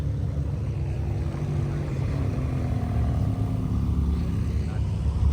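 Ferrari 360 Challenge Stradale passing at a car show, a low, dense engine rumble building slightly as it draws nearer over a few seconds, with no voices.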